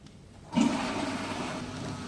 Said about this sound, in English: So now we will open the water pump.